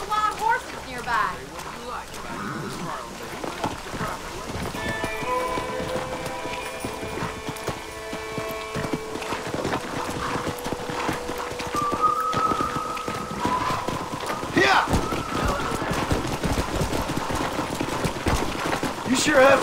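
Wild horses' hooves clip-clop in a fast rhythm over a long stretch in Red Dead Redemption while voices talk over them, with some watery patter and bright tones in the background.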